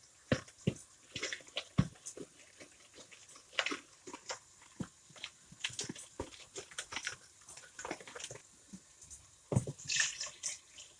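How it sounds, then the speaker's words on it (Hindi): Water splashes and trickles in short irregular bursts into gram flour batter, with wet stirring and dripping noises close by, no voices. "इसमें थोड़ा थोड़ा पानी डाल के मिक्स कर लूँगी।"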